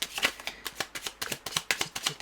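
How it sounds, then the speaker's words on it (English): A deck of tarot cards being shuffled up close, a quick run of crisp riffling flicks and soft slaps repeating steadily with no voices. "Let's give these another good shuffle"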